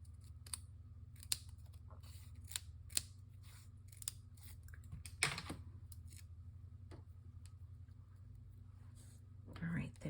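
Scissors snip paper during a card-making craft session, giving small crisp cuts at irregular intervals over a low steady hum, with quiet speech at times.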